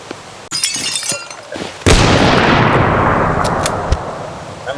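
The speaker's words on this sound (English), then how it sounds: "always pick up glass and throw them off the balcony" Glass shatters in the video game Teardown after being thrown off a balcony, a sudden loud crash followed by a long bright spray of tinkling debris that fades over several seconds.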